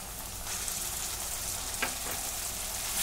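Coconut, coriander, ginger and garlic paste frying with onion and curry leaves in a hot pan, giving a steady, close sizzle with a brief stir partway through.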